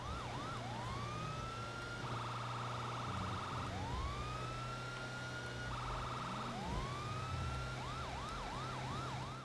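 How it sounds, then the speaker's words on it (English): A police van's siren in GTA Online wails continuously, alternating rising sweeps with a fast warbling yelp and ending in rapid whoops, over steady engine and traffic rumble. "I just like having the sirens on because I I've noticed that cars do pull out of the way a lot more"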